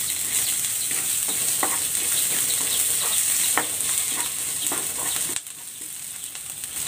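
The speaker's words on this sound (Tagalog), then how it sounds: "Magigisa na ako ng bawang. At ng sibuyas." Garlic and onion sauté in a hot pan for pork ribs, giving a loud, steady sizzle with occasional scraping stirs, then a sudden drop in intensity near the end.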